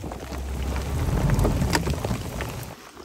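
Thunderstorm over open water near a remote Canadian island, with dense steady rain and a low rumbling roll of thunder swelling in the middle, loud and close, with no voices.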